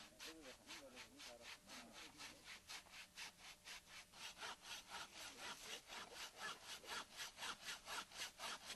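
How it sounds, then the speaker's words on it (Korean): A hand saw cuts into a tree trunk with rhythmic back-and-forth strokes, faint and close, speeding up and growing louder toward the end. "나무를 한 그루 잘라보기로 했다."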